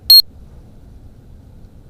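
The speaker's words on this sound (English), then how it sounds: "Trigger cam is just beeping away" A single short, high electronic beep from a trail camera sounds once at the start in fog at night, then only faint low background hum remains.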